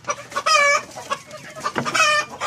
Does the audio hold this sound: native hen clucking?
yes